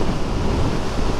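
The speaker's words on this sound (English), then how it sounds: "Windy, windy, windy." Steady rushing wind buffets the microphone while riding a 2022 Suzuki DRZ400SM motorcycle at speed, a continuous broadband roar with no pauses.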